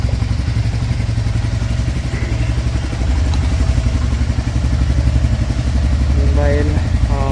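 A motorcycle engine idles steadily just after starting, a close, even low throb with a rapid mechanical pulse that holds for several seconds.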